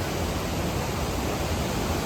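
A fast-flowing mountain river near Govindghat on the Hemkund Sahib route roars as a dense, continuous broadband rush, loud and steady with no breaks.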